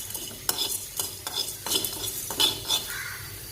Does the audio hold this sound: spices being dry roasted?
yes